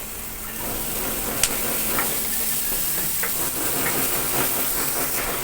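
Garlic sizzling in a pan for chicken adobo, a steady bright frying hiss with a few faint clinks and stirring sounds throughout.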